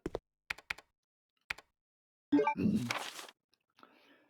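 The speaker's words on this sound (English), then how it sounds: "Guess who's typing that?" A few short keyboard keystrokes from the video game Resident Evil Code: Veronica, sparse and clicky at first, followed by a louder burst of sound and faint trailing noise.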